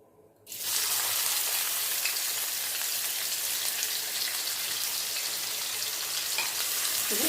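Onions dropped into hot oil in a pan for a chicken fry burst into a loud, steady hiss that starts abruptly after a quiet moment and holds evenly, close and alone.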